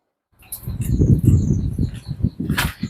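Pigeons at a high-flying pigeon loft beat their wings in a quick, close flurry of flapping bursts, with a few faint chirps and no voices.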